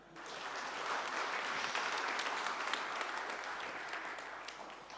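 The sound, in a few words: applause for a speaker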